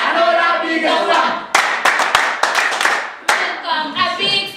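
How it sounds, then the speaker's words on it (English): Several sharp hand claps sound close and loud in an uneven run, with a voice speaking before and after them. "Another big one. Another bigger one."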